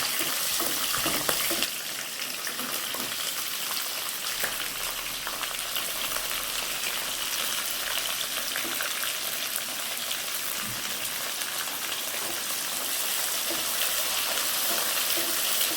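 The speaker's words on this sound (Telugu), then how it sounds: "ఉల్లిపాయ ముక్కలు సగం వేగాయి" Onion pieces and green chillies frying in a pan, an even, continuous crackling sizzle that runs for many seconds, close by and with no talking.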